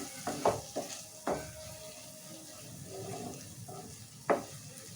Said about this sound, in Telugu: సో ఈ మసాలా కూడా లైట్గా ఫ్రై కావాలి ఆయిల్లో